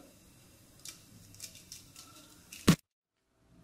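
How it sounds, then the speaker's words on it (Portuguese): A fork pierces and twists a head of garlic to loosen the cloves: a few soft scraping scratches build to one loud, crunchy snap close by, followed by silence. "Aí você vai pegar uma cabeça de alho, espetar o garfo e girar."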